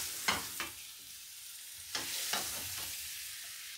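Chicken biryani masala being stirred and fried in a pan over lowered heat, with a steady soft sizzle and several scraping strokes of the spoon at irregular intervals, close up with no talk.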